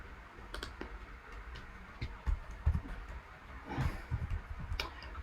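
Sparse clicks sound while a sell order is placed on a crypto spot trading screen, scattered sharp taps over a soft room hum.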